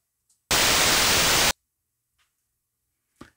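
A one-second burst of white noise with the mid-range cut by a notch filter plays loud and steady with abrupt start and stop, surrounded by near silence and a few faint clicks.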